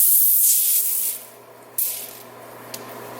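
A can of cooking spray hisses loudly onto parchment paper, then weakens and sputters in a couple of short bursts as it runs out, close and with no talking.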